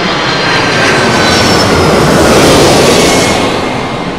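Boeing 767-400 airliner landing low overhead at Heathrow, a loud, continuous broadband jet roar that swells and slightly fades over a few seconds, with no voices.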